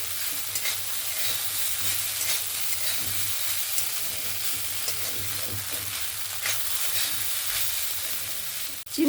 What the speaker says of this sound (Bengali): চিনিটা দিয়ে ভালো করে মিক্স করে নেব আবারও